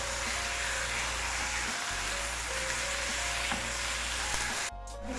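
Boneless chicken fries in a pan over a medium flame, giving a continuous close sizzle with faint stirring scrapes and a brief pause near the end.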